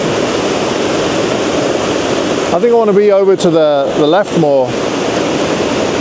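Broadband rushing roar of a waterfall in the wild forest of Vancouver Island, loud and steady throughout, with someone speaking briefly over it midway.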